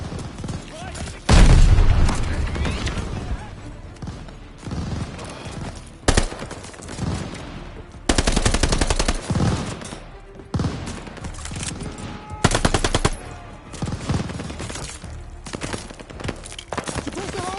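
Half-track machine gun fire in a wartime video game battle, heard as loud bursts of rapid shots and booms that recur through the clip amid constant battle noise, with voices calling out in between.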